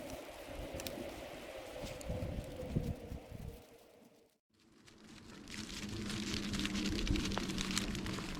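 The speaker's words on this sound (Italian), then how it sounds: "Piove." Rain falls steadily outdoors on a mountain pasture near an old state border in the Valdastico valley, a soft continuous patter that briefly drops out before returning louder.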